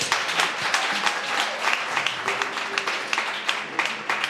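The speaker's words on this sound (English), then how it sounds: "give yourselves a round of applause" Audience applause for film directors at a documentary program event, a loose mass of individual claps with distinct sharp hand strikes, moderately close and lively.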